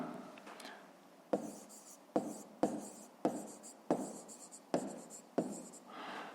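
A pen scratches out a fifth-grade math solution on paper in close, quiet strokes, with a sharp tap at the start of each of about seven short writing bursts spaced roughly half a second apart.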